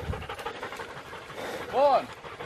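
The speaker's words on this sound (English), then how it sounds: "As per usual, someone else's dog has just turned up now." After a small pig hunt, a dog pants quickly and softly close by, with a brief whine near the end against quiet outdoor background noise.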